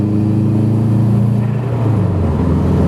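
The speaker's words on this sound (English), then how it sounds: "Makes cool turbo noises." A Subaru's turbocharged engine revs hard and loud from close by, a steady roaring drone whose pitch sags partway through as the revs drop.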